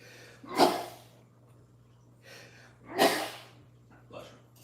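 Three sneezes come close and loud, the first two sharp and explosive and the third softer, spaced a couple of seconds apart over a low steady hum indoors.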